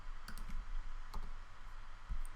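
Soft mouse clicks while modelling a low-poly tree in Blender 2.8, a few sharp isolated clicks spaced irregularly over quiet room tone, with no talking.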